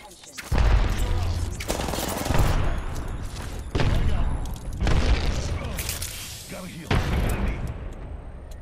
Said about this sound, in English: They're shooting from, from behind